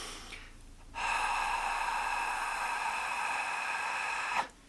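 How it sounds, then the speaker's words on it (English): A yogic Ha breath, a long forceful exhalation that starts abruptly and holds steady, breathy and close for about three and a half seconds before cutting off. "And I'm showing you the Ha breath."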